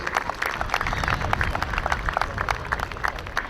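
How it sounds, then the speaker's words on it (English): Crowd applause at a Little League baseball and softball opening day, scattered individual claps audible over a low background rumble, moderately loud and continuous. "Round of applause for those group of kids."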